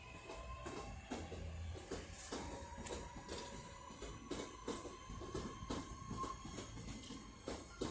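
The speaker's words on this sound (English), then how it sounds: "Here comes the Hadfield train." A passenger train arrives at Manchester Piccadilly station, wheels clicking rhythmically over rail joints in a steady series of sharp knocks above a low rumble, with a faint squealing tone, heard from a platform at moderate distance.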